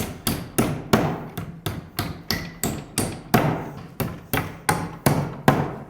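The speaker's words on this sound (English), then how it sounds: "a couple nails on one side" Hammer driving nails into a wooden canvas strainer frame, a steady run of about fifteen sharp, evenly spaced blows, close and loud with no talking.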